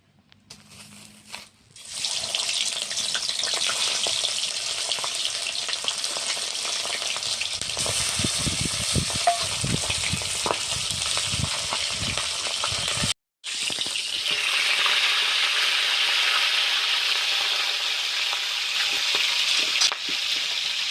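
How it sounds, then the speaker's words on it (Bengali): A rohu fish head fries in mustard oil in a wok, giving a loud, continuous sizzle for about twenty seconds. Bursts of crackling and popping come in the middle, and there is a short break near the end. "মাছের মাথা ভাজার জন্য"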